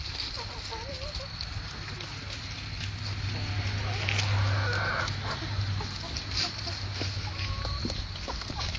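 Farm chickens cluck and murmur nearby in a coop, with a steady low background hum and occasional louder clucks, and only faint hints of a voice.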